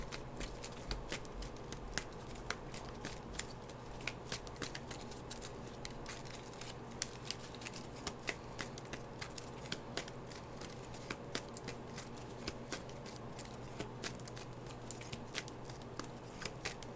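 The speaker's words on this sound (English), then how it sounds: "you tell me when to stop shuffling" Playing cards being shuffled continuously, a steady papery riffle with frequent crisp flicks, close and fairly quiet with no talking.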